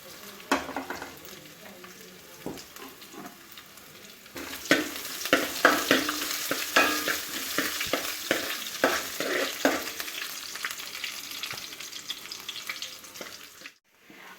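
Ginger and garlic fry in a pan for a Kerala-style crab curry, giving a steady close sizzle with scraping stirs that grow busier partway through, then stop abruptly near the end.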